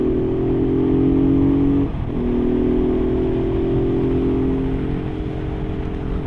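A Honda Bros Hawk GT motorcycle accelerates through an overtake, its engine holding a steady, close drone with a brief shift dip, then droning on under wind noise.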